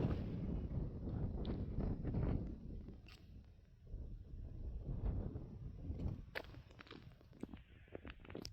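Wind gusts buffet the microphone on an open canyon top at high elevation, a steady low roar that swells and eases throughout, with a few faint scuffs and clicks near the end.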